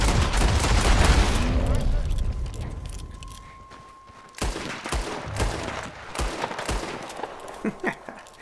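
Gunshots fired at a legendary bear while hunting in Red Dead Redemption 2, a loud rumbling burst early, then a string of sharp separate shots spaced a beat apart, with a voice speaking between them.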